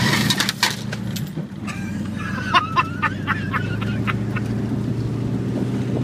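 A 1974 Dodge Monaco Bluesmobile rolls along with a low, steady engine hum inside the cabin, while clicks, rattles and knocks from the interior break in at times. Nearby and moderately quiet, with no speech.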